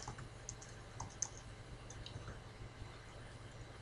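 Soft, scattered key clicks from a computer keyboard, irregular and fairly quiet over a low steady hum.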